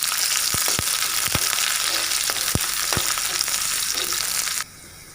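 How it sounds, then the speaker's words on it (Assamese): Onions and green chillies sizzle steadily in hot oil with whole spices, close and loud, with a few sharp clatters of a stirring spoon before the frying cuts off near the end. "এতিয়া আমি কাটি লোৱা পিঁয়াজ দুটাৰ লগতে কেঁচা জলকীয়া দুটা দি অলপ সময় ভাজি ল'ম।"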